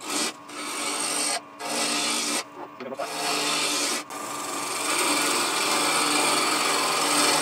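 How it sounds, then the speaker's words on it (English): A wood spindle is roughed into a cylinder on a lathe with a spindle roughing gouge, turning a clamshell box. Close, rasping scrape in bursts broken by several short pauses, then settling into a steadier cut. "The spindle roughing gouge, which will turn into a round cylinder."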